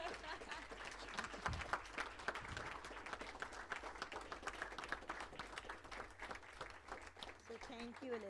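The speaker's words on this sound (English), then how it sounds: "give her a big hand of applause" Audience applause at a women's leadership awards ceremony, steady dense clapping from a large crowd sustained throughout, with a few voices mixed in underneath.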